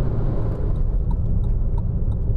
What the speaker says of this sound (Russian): Как будто что-то с выхлопом здесь. Прям шумный глушитель снизу,